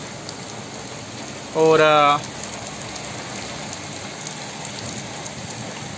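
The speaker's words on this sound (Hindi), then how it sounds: "बारिश आ रही है" Rain falls as a steady, broadband hiss for the whole stretch, and a short burst of speech rises above it partway through.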